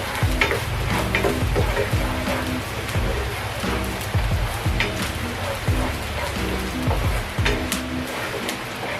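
Garlic stirred and frying in a pan, a steady close sizzle with repeated scraping strokes of the spoon running through the whole stretch.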